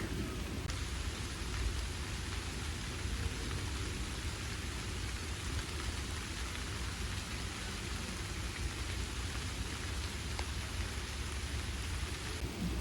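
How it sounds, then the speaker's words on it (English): Steady rain hisses and patters continuously on a lake behind a hotel, with soft low rumbles of distant thunder beneath it; no one speaks. "I am actually hearing thunder,"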